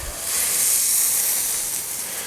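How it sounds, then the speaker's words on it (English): A room-temperature steak sizzles on a hot Blackstone griddle, a steady close hiss that swells and then holds for a couple of seconds with no talking. "I'm going to sear that side a little bit there."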